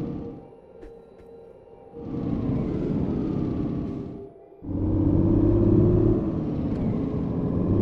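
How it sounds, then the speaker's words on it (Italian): A fully loaded truck labours up a steep climb on a German motorway, its engine droning in a deep, steady rumble that drops away briefly and then returns louder and heavier. "Qui c'è una bella salita, sento un po' il camion in difficoltà"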